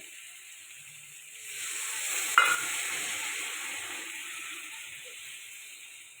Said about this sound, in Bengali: এবার দিয়ে দেবো চিংড়ি মাছটা দিয়ে একটু নাড়তে থাকবো